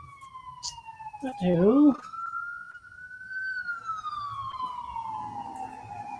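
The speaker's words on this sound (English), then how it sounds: "It is the ambulance." An ambulance siren passes outside, wailing in a long, steady rising and falling tone at moderate distance, while a person briefly speaks over it and a lower vehicle rumble lingers underneath.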